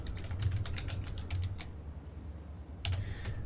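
Fingers type on a computer keyboard in quick, close clicks for about a second and a half, then pause before a short final burst of keystrokes.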